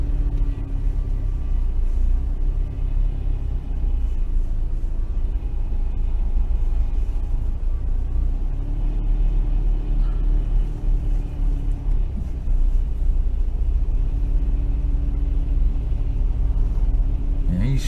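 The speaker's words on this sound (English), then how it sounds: "he's struggling himself because it's not a 6-wheel drive wagon, just rear drive axles" A rear-drive-axle wagon, not six-wheel drive, labours through deep snow in a snowstorm, its engine rumbling low and continuous for the whole stretch, with only slight changes as it strains.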